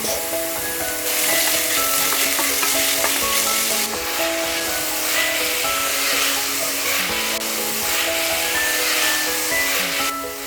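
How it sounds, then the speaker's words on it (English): Potatoes for aloo paratha fry in a pan with a loud, close, continuous sizzle, broken by stirring clatter and bright metallic scrapes, and no talking. "Let's fry them until they are pale and white."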